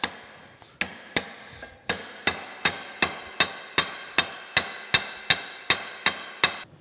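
A hammer taps a part down onto a metal shaft during restoration of a New Haven metal planer: about fifteen sharp, evenly paced metallic strikes, close and crisp, with no talking.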